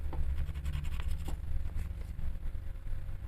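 Colored pencils scratch and scrape across paper in short, quick strokes, close-up and fairly faint over a low background hum, in an uneven patter of soft rubbing sounds.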